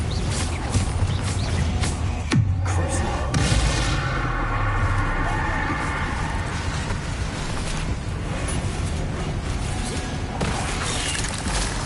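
A Bombarda explosion spell goes off in the video game Hogwarts Legacy, a sharp blast near the start followed by a dense rumble of debris and effects that carries on loudly throughout.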